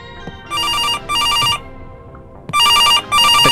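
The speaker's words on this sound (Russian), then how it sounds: "Где-то прям вот здесь звенит." A telephone rings inside the video game September 7th, four loud electronic trill bursts in two pairs with short silent gaps between them, close and clear, with no talk over it.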